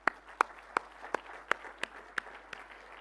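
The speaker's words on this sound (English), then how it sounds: "Let's have a round of applause." Audience applause at a hospitality meeting comes as a series of about eight distinct, fairly quiet claps spaced at a steady rhythm, thin and sparse rather than a full crowd.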